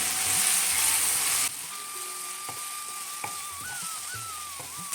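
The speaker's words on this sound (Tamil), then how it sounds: "கொஞ்சம் போல கொத்தமல்லி நல்லா புதினாவோட அந்த ஈரப்பதம் போகிற வரைக்கும் நல்லா வதக்கணும்" Coriander and mint leaves sautéed in a pan for tomato rice premix, heard as a soft steady sizzle with occasional faint clicks and stirring touches, moderately close, alone without speech.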